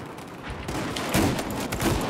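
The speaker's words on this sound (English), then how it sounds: "I'm just fucking shooting in the fucking smoke" Rapid bursts of gunfire crackle through a Battlefield video game battle in smoke, dense overlapping shots sustained throughout at steady loudness with no talk.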